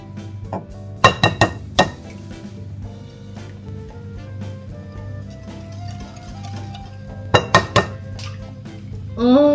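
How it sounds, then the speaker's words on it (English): A utensil clinks sharply against a bowl a few times while cake batter of sugar, sour cream, vanilla, oil and eggs is whisked, with soft steady music underneath between the close, bright taps. "Let's whisk it together."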